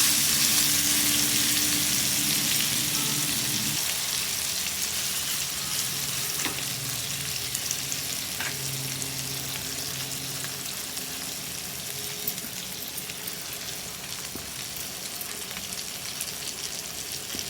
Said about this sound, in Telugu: మళ్ళీ రెండోసారి కూడా అదే విధంగా చేపలను వేసుకొని ఫ్రై చేసుకోవాలి.